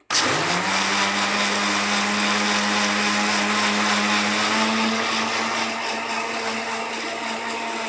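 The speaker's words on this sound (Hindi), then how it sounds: "पहले ब्लेंडर के अंदर तमाम चीज़ों को ब्लेंड कर" An electric blender whirs loudly and steadily for several seconds while blending cold coffee ingredients, with no talk over the motor.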